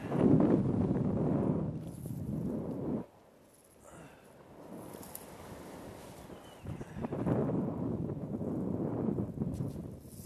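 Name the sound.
wind gusts on the water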